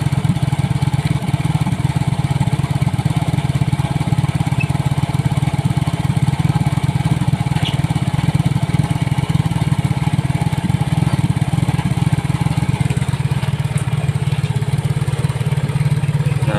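A fuel-injected Yamaha Mio J motorcycle engine idles steadily at around 1600 rpm after an air-intake pressure sensor fault, a constant low drone held close and loud throughout without voices.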